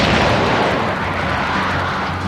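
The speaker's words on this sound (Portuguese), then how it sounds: "O Rodney disparou primeiro uma salva maciça dos seus canhões de 16 polegadas" Battleship Rodney's 16-inch guns fire a massive salvo, a dense, loud, rumbling blast that stays heavy and continuous throughout, with no voices.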